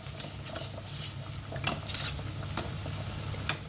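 Cannelloni pasta sheets being stirred in a pot of boiling water, giving a steady bubbling hiss with light scraping and clinks of a utensil against the pot, close and continuous with no talk.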